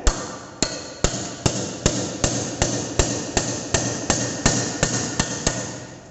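Hammer blows drive a cold chisel to chip excess metal from a workpiece held in a vise, about fourteen sharp, evenly spaced ringing strikes, loud and close with no talking.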